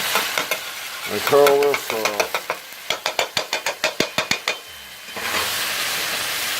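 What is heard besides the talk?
seafood pesto with dried basil sizzling in pan while stirred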